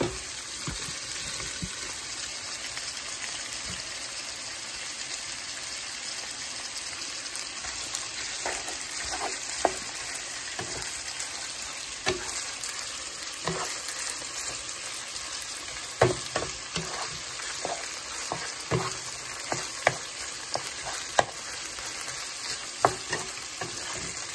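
Meat sizzling steadily in a frying pan for ampalaya con carne, with a spatula scraping and stirring in irregular clacks and scrapes over the continuous hiss, close and fairly loud, no talking.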